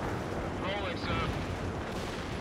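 TOW missile firing in the war game World in Conflict, a dense roar of battle with booming blasts and a rising whoosh, loud and continuous, mixed with game effects.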